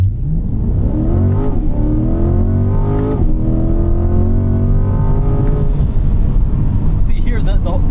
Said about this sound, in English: See here, the engine note and the sound and the vibrations.